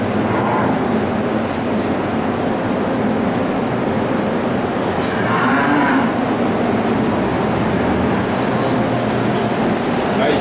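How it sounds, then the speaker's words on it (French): Dairy cows in a Quebec dairy barn give loud, close, drawn-out moos against constant barn noise and a steady hum. "Ici, c'est la section des vaches"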